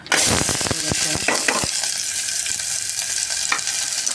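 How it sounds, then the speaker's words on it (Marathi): Onion frying in hot oil with garam masala, a loud continuous sizzle with sharp crackles and stirring knocks early on, then settling into steady hiss. "आणि गरम मसाला तेल गरम करून त्याच्यात हे कांदा"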